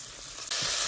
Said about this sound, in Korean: 어느 정도 볶았으면 양파를 넣고 양파가 투명해질 정도 될 때까지 볶아줍니다